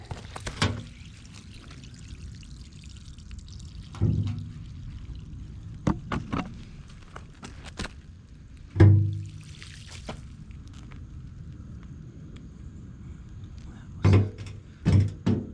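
Water rinsed through the fuel tank of a 1965 VW Beetle pours out in a faint, irregular trickle, broken by several louder splashes and knocks, heard alone and close by.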